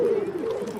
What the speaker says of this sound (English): It's crawling with pigeons and covered in their poop.